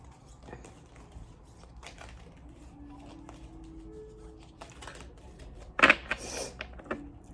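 Art of Love tarot cards are shuffled at random: soft, faint rustles and light taps are scattered throughout, with a sharper burst of card flicks near the end.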